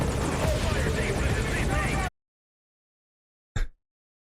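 Helicopter rotor drone from the video game Metal Gear Solid V: Ground Zeroes, a steady loud whir for about two seconds, then silence broken by a brief burst.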